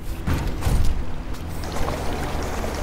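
Water being collected with a water gun in the farming game Lightyear Frontier, a steady rushing, pouring wash that swells briefly and holds at an even level throughout.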